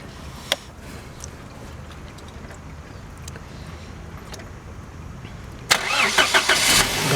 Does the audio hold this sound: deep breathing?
no